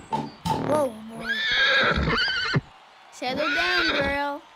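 A cartoon horse gives loud, shrill whinnies in a few separate bursts with brief pauses between them, heard close up and alone.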